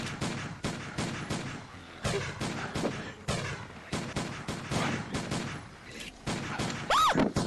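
Rapid bursts of gunfire from a VR zombie video game crack out in quick repeated volleys across the whole stretch, loud and close, with excited voices shouting over the shots.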